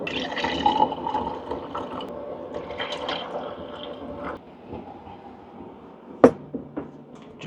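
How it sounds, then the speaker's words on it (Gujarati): Water pours into a pot for making coffee while camping in a 48-year-old RV. A steady, fairly close splashing flow runs for about four seconds and eases to a trickle, followed by a sharp clunk and faint drips. "કોફી બનાવવા માટે પાણી આપણા વાસણમાં કાઢી લઈએ"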